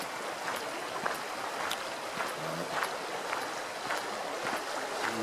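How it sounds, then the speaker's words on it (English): A creek flowing through Pine Grove Furnace State Park, a popular fly-fishing spot: a steady, close rush of moving water fills the whole stretch, with no voices. "it's just beautiful with this creek here."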